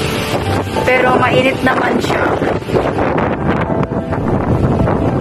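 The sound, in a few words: strong typhoon wind blowing at a Hong Kong building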